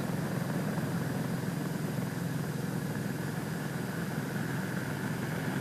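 A propeller airplane engine drones in a steady, continuous broadband roar at moderate level, unchanging throughout with no voices.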